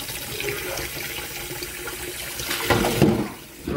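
Water rushing steadily from a hose in an animation, a continuous hiss that swells louder toward the end.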